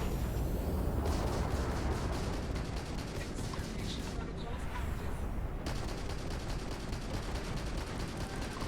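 A missile launching in the Starfield video game, heard as a dense, sustained roaring rumble with rapid crackling bursts that runs loud and continuous throughout, without voices.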